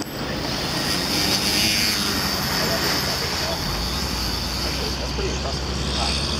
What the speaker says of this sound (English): We're going to attempt to fly this, missing a propeller.